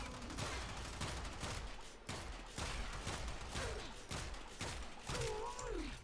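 Rapid gunfire from a Kuva Marelok pistol in the game Warframe, a dense run of loud, repeated shots with brief gaps, against a Corrupted Heavy Gunner enemy, with faint in-game effects underneath.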